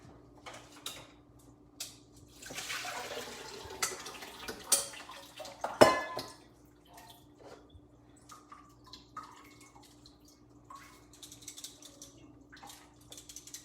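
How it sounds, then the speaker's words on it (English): Cooked bow tie pasta is drained of its water, giving a brief rushing pour and splash that peaks then fades into scattered drips and light clinks of kitchenware in a quiet room. "I drain some pasta that we've cooked"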